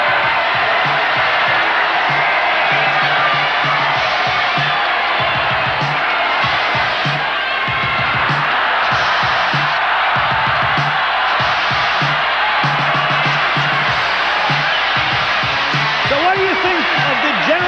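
A packed arena crowd at a bicycle freestyle competition in Madison Square Garden's Phelps Forum roars steadily, loud and continuous, with cheers and whoops throughout and a voice speaking over it.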